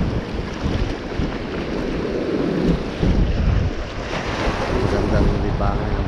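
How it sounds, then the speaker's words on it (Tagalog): Big ocean waves break on a Guam shore in a loud, continuous crashing surf mixed with strong wind buffeting the microphone, with surges swelling and easing over several seconds. "Ano? Big wave. Ooh, big wave."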